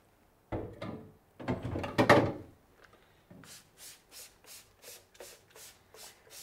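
A scrub brush works over a screen printing screen, giving rough rubbing bursts early on, then a steady run of about eight even back-and-forth scrubbing strokes. The strokes are close and moderately loud, with no talk.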